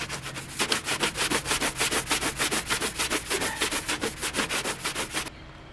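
A 250-grit sanding block is worked by hand across a boat transom in fast, even back-and-forth strokes, loud and close, roughly four rasping passes a second, stopping abruptly near the end.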